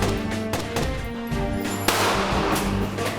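G3 battle rifle in 7.62 caliber firing in the Tom Clancy game Raven Shield, a run of sharp reports with a louder crack near the end over a steady dense background.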